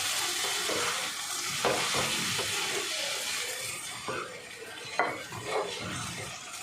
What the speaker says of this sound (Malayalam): കുറച്ച് വെളിച്ചെണ്ണ കൂടി ഒഴിച്ച് ഇനിയും കയ്യിൽ വെച്ചിട്ട് ഞാൻ ഇങ്ങനെ ഇളക്കി മറിക്കത്.